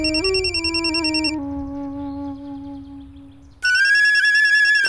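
A mobile phone ringtone plays loud and close in a Telugu movie scene: a bright electronic melody that repeats, drops to a softer pattern in the middle, then surges back sharply for the final seconds.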